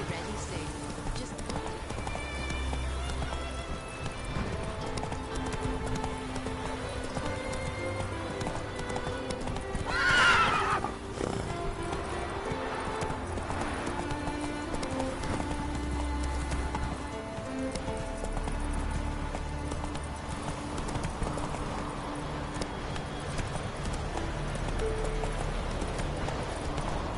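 Roach, Geralt's horse in The Witcher 3, galloping with steady clip-clop hoofbeats throughout, a loud whinny near the middle, over game music and ambience.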